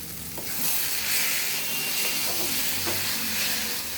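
Cabbage sizzling in a pan as it is stirred near the end of cooking for a home curry, a steady hiss with soft scraping strokes and gentle swells, close by and alone.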